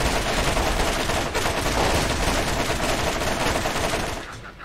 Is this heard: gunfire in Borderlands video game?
yes